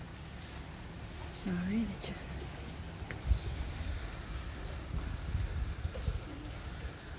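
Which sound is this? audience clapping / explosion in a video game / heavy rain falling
heavy rain falling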